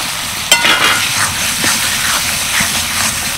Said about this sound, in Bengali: এবার দিয়ে দিচ্ছি কেটে রাখা পেঁয়াজ